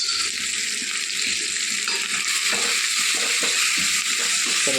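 Asafoetida, turmeric and pickle masala sizzle and fry in a hot pan while being stirred, a steady loud hiss with soft scraping strokes throughout, no voices.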